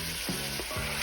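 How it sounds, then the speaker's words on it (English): Salted pigtails searing in hot oil in a pot give a steady, close hiss of sizzling fat with a few soft shifts, heard alone. "So now that our oil is hot, we're going to go ahead and add our pigtails to our pot"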